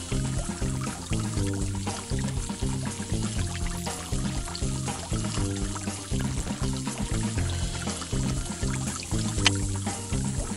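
In a children's science game, water pours from a garden hose into a dog's bowl, a steady splashing stream set under a bouncy, rhythmic music track that carries on throughout.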